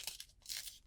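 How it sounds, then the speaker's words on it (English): Paper being torn gently away along a finger-creased fold while making a quilt block, a soft crinkly rasp in a few short bursts, close and fairly quiet with no talking. "So finger crease it"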